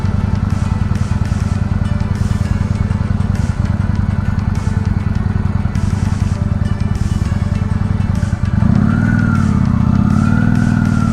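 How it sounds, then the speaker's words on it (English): A Honda Shadow motorcycle engine running steadily up close, a loud continuous rumbling idle with a short rev near the end and no talking. "We're still testing this Honda Shadow."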